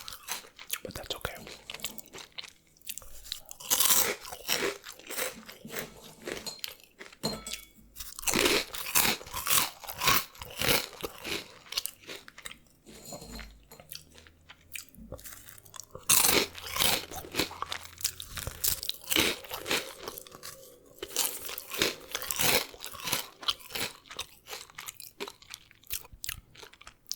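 Crunching and chewing of imported Cheetos, in close, dense bursts of crisp bites and mouth noises that come and go in clusters over a soft background, with faint whispering mixed in.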